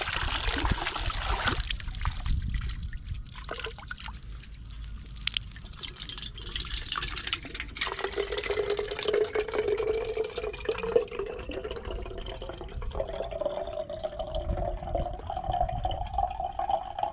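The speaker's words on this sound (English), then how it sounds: "we're just gonna scoop water through this into the Coke can" Water is scooped through a folded cloth filter into a Coke can outdoors, with soft trickling and dripping that turns into a steadier pouring stream.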